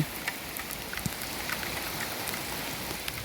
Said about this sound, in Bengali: বৃষ্টি পড়ে চলেছে